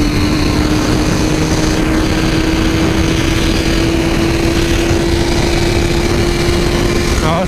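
A Suzuki GSX-R 1000 motorcycle engine drones loudly and steadily on a test ride, holding a sustained tone with slight rise, over heavy wind rush close to the rider.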